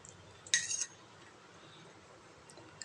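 A spoon gives a single bright metallic clink against a pot as ginger-garlic paste is added for chicken rezala, then the kitchen goes quiet.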